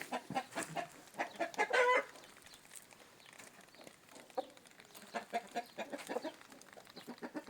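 Several chickens and roosters clucking nearby on soil in short, irregular bursts, with one louder squawk early on; no talking.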